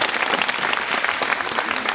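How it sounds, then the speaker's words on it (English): Audience applause for a performer on stage, a dense, steady wash of many hands clapping close and loud throughout with no pauses. "I want another round of applause for Tom."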